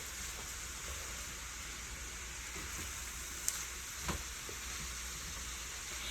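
Smoked sausage sautés in a pan for a spaghetti marinara sauce, giving a steady, even sizzle close by with a couple of faint clicks and no voices.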